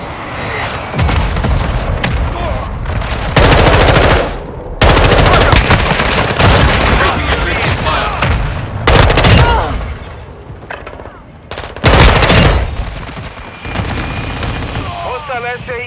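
A Semtex grenade explosion with heavy automatic gunfire in a Call of Duty: Modern Warfare 2 10v10 moshpit match, loud repeated bursts and booms with shouted voice lines between them.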